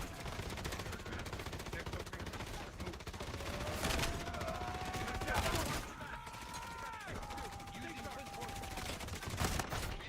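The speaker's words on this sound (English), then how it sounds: "This gun has a delay. I have to hold the trigger for ages before it starts firing." A delayed-firing gun in a looter-shooter game rattles off sustained bursts of rapid automatic fire at moderate volume, dense shots packed close together with a few warbling tonal effects running alongside.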